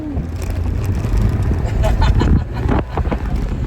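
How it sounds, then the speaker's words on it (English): A 1995 MGF Roadster engine revs and hums steadily, close and fairly loud, with wind rushing past and road noise underneath. "The sound from the engine is fantastic."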